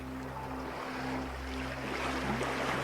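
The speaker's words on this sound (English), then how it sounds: "you can hear the sounds of the ocean around you" Ocean waves wash steadily in a soft, distant surf with a low continuous rumble and faint wind, no voices over it.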